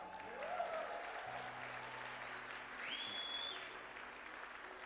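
An audience at a Les Brown motivational speech breaks into sustained applause, a soft, even spread of clapping heard from a distance, with a brief whistle-like tone rising over it.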